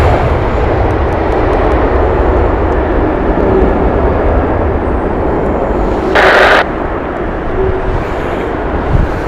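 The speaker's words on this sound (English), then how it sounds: "Inbound next is Swiss with their Airbus A320neo" A Swiss Airbus A320neo arrives at Heathrow with a steady, loud broadband rumble and rush of engine noise. A brief hiss bursts out partway through.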